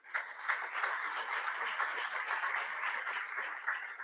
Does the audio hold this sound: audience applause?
yes